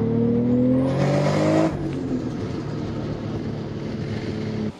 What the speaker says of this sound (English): Boost sounds insane now. Like, that turbo has opened up so well, man.